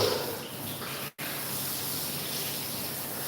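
Steady broadband rush of water running from a tap to fill a dog's bath for Theodore the Doodle, continuous and close, with one very brief dropout partway through.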